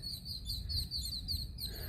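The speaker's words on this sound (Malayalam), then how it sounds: "അപ്പോൾ ഇവിടെ കണ്ടോ പക്ഷികളൊക്കെ കരയുന്നുണ്ട്" Small birds chirp and tweet repeatedly in an outdoor spot near Kanhangad, with faint high calls over a low background rumble.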